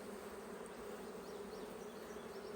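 Honeybees drone around a newly established hive as a faint, steady buzz that stays even and fairly distant throughout, with no voices.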